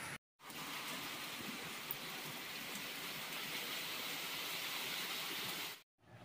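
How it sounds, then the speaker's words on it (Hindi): Heavy thunderstorm rain pours steadily in a dense, loud hiss, with no voices and only a brief quiet gap at each end, in McLeod Ganj. "इन्नी ज़्यादा बारिश तेज़ हैगी है"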